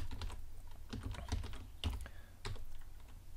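Someone types code on a computer keyboard in quick, uneven bursts of clicking keystrokes, close and clear, with no talking.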